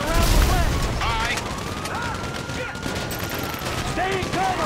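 Gunfire rattles in the video game GTA 5, with rapid bursts of shots over a busy mix of game effects and voices, steady and loud throughout.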